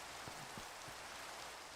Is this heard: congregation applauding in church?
no